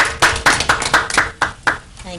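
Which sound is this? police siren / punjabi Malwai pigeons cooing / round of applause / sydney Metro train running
round of applause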